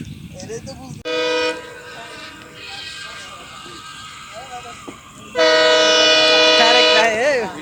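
A train at a crossing near Karkhana Bazar, Bangladesh, sounds its horn in two loud harmonic blasts, a short one and then a longer sustained one, over a quiet background.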